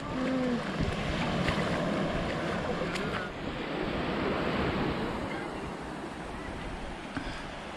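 Sea waves surging and breaking at Mattu Beach where river meets sea, a steady loud wash of surf with strong wind buffeting the microphone throughout.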